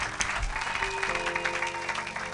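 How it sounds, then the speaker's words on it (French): A church congregation claps and cheers in praise during a sermon, giving a steady, dense wash of applause with some crowd noise that holds throughout. "Acclamez pour la gloire de notre Dieu."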